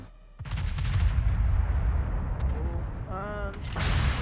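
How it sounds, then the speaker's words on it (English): World of Warships naval battle: the Bismarck's two front turrets fire a loud, booming salvo that rolls on with a long rumble, then a second heavy blast follows near the end. "fired with the 2 front turrets"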